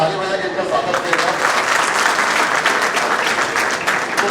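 An audience at a college gathering claps steadily to welcome visiting ministers, a dense, even round of applause lasting several seconds.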